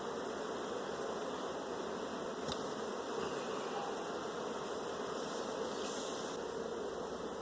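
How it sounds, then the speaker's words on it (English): Honey bees from hives opened while honey is being pulled, a steady dense buzzing hum that stays even and fairly close throughout, with no talking. "Boy, these bees are crazy gentle."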